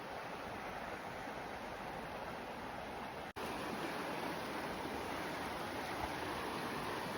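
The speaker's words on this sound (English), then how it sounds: "You can see the stream or river now and hear it running all alongside the path." A stream runs alongside a walking path in Glacier National Park, Montana, a steady broadband rush of water, continuous and fairly faint, with a brief dropout midway and no voices.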